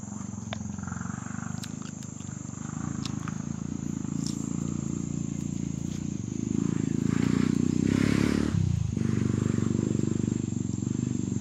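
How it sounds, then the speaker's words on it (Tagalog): A motorcycle passes along a rural road, its engine rising to a louder, closer roar partway through and then easing off, over a steady background of chirping insects. "Yan, may motor."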